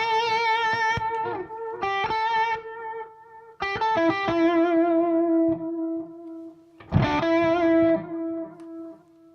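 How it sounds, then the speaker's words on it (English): Electric guitar through an MXR Carbon Copy analog delay pedal with its modulation switched on, sustained chords and notes with wavering, chorus-like repeats trailing behind each strum, played alone and fairly loud. "That adds a bit of modulation to the delays."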